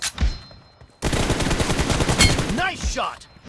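Gunfire in a team shooting video game, a dense burst of rapid shots after a brief lull, loud and close, ending with a short voice.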